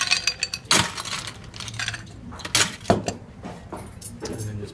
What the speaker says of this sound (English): To that we're going to add some cubed ice.